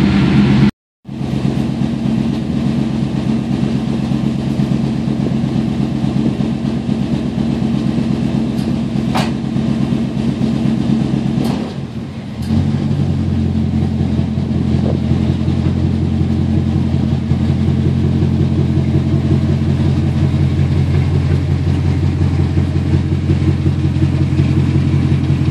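Damaged truck after an accident with its engine idling in a steady, low, loud rumble for the whole stretch, a brief dropout near the start and a short dip midway, no talk over it.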